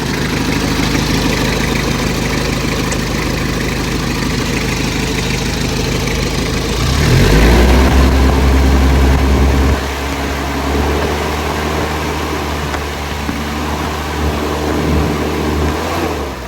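A used car engine running at a steady idle, revving up briefly near the middle before settling back into a low, even rumble, loud and close with no talking.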